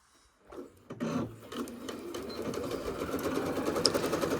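A sewing machine stitching around the edge of a fabric popcorn bag, starting with a few slow stitches and then running into a fast, steady, close mechanical chatter.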